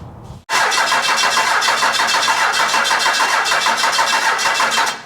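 A junkyard 12-valve Cummins diesel engine, one cylinder lacking compression, cranks and catches abruptly after a brief quiet moment. It then runs loud and close with a rough, steady clatter throughout.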